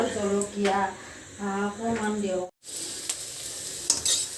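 Potatoes fry and sizzle in a pan while being stirred, with scraping strokes in bursts and a steady hiss between them; a voice talks over the first half, then a brief silence before the frying continues.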